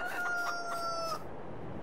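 Chickens in the Farming Simulator 22 video game crowing and clucking, a single close rooster-like call with steady tones over a constant farmyard background, no speech.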